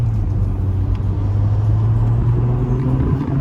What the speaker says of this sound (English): we'll just take you up the road in this beautiful Mercedes SL300